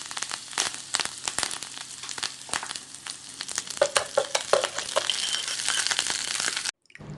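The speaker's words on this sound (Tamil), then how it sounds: "இன்றைக்கி நான் பசு நெய்யில் வறுத்து இதோட சேர்த்துக்க போகிறேன்." Drumstick flowers fry in cow ghee for a drumstick-leaf soup, giving a steady crackling sizzle with scattered sharp pops and clicks throughout, fairly close, before cutting off abruptly near the end.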